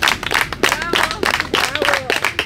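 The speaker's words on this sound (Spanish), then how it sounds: "le vamos a enviar un aplauso a la hija de ella" Scattered clapping from guests at a quinceañera celebration with a live band, irregular hand claps mixed with crowd voices and tonal sounds in a busy, reverberant room.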